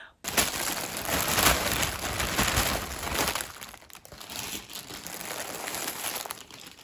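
Crinkling and rustling of thin plastic wrapping around balls of yarn, handled close up in continuous bursts that ease off toward the end.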